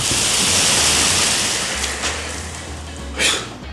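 Surf from one of America's largest freshwater lakes rushes loudly and steadily onshore, with a broad, hissing wash and wind buffeting the microphone, and a fresh wave breaks near the end.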